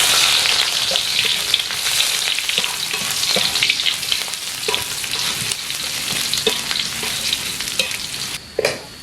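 Shallots and garlic fry loudly in a pan with a dense, continuous sizzle, broken by stirring scrapes and clicks, then a spatula clatter right at the end.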